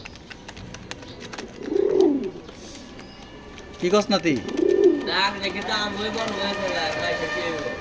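Soft, low cooing of racing pigeons in a few separate calls, close by, with someone talking briefly and wingbeats or rustling in between.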